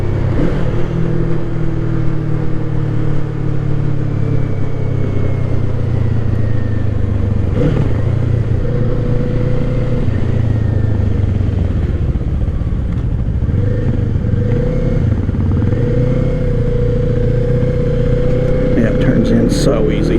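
Kawasaki Eliminator, a low-displacement motorcycle, droning loudly as it is ridden and accelerates, engine pitch rising and falling through gear changes under steady wind noise, while the rider talks over it.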